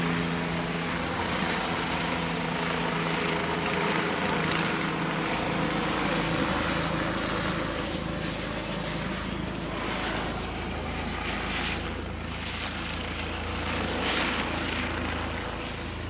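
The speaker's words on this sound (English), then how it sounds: "helicopters, I don't know if you hear them like me, but I can't even hear myself" A heavy, continuous rotor roar from helicopters fills the whole stretch, loud and overhead near Reykjavik, Iceland, with a faint whine and slight swells as they pass.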